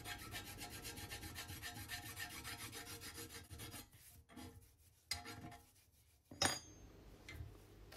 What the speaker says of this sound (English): I then use a file just to clean along the front edge.